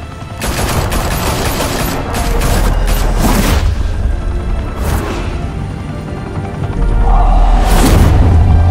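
Gunfire in Batman: The Telltale Series, rapid, loud close bursts of automatic shots and booming impacts in several volleys with brief lulls between them.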